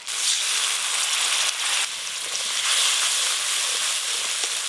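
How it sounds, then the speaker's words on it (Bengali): Spice paste of turmeric powder, ground dried chilli and poppy seed paste fried together in a pan for a fish curry, giving a steady, loud broadband hiss and sizzle throughout with no talk. "সব কিছু বেশ ভালোভাবে একসঙ্গে কষে নেব।"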